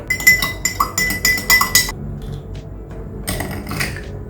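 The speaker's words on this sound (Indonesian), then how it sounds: "Oke, ini gue tinggal aduk." A spoon stirs a brown sugar milk drink of caramel and milk in a glass, making rapid bright clinks against the glass in bursts, a short quiet pause, then another run of clinking, close and clear.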